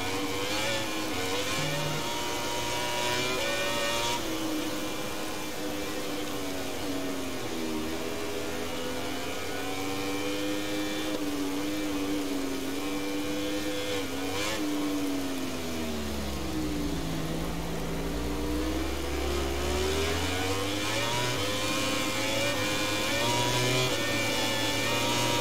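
A MotoGP 20 racing motorcycle engine in the video game screams continuously at high revs. The pitch rises and falls through gear changes and braking, with a deep dip midway before it climbs again, and no voices are heard.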